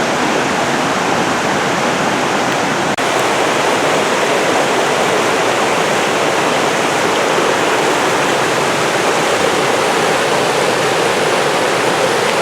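Fryingpan Creek at Mount Rainier rushes loud and close, a steady, dense roar of whitewater that holds unchanged throughout with no voices.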